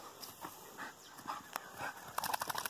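A mixed-breed dog pants in rapid, breathy rhythm close by, with a few faint whimpers and scattered small noises around it outdoors.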